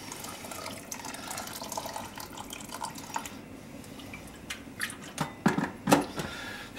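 Water is poured over bulgur in a pot, a running splashy trickle that is soft at first, then louder irregular splashes and drips near the end. No one speaks.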